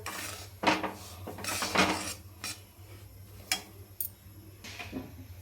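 Semolina is stirred and roasted in a pan over low gas, heard as quiet, irregular scrapes and clinks of a utensil against the pan, with brief louder strokes between softer gaps.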